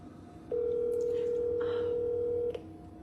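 A single steady electronic telephone ring tone holds for about two seconds, then cuts off, over a faint quiet room background.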